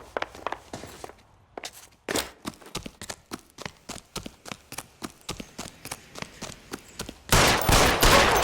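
A gunfight in the crime game L.A. Noire: a steady run of sharp, evenly spaced shots, loud and close, ending in a dense, sustained burst of noise.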